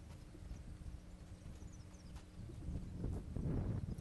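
A young horse on its first ride under saddle, with soft, rhythmic hoofbeats and quiet rustling that grow somewhat louder toward the end, faint and distant overall.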